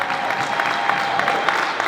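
A crowd claps steadily, a dense wash of applause held at an even level from start to finish.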